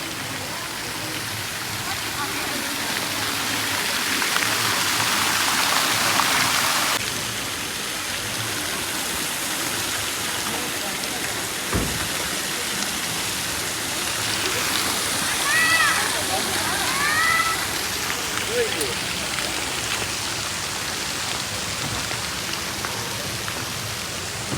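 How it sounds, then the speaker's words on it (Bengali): Water fountain splashing in front of a hotel at night, a steady broadband rush of falling water throughout with faint background voices and a brief thump midway. "হোটেলের থেকে বের হয়ে সামনেই ছিল এই জলের ফোয়ারাটা, যেটা রাত্রে আবার লাইটিংও হচ্ছিল"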